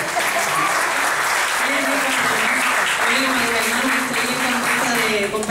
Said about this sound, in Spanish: Así que vamos a recibir con un fuerte aplauso a Nico, que está sin camino.